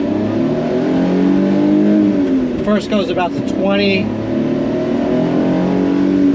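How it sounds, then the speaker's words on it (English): A 1993 Mitsubishi Minicab mini truck's engine drones loudly and steadily inside the cab while driving, its pitch shifting as the revs change, with someone talking briefly over it partway through. "you can really hear the engine roaring."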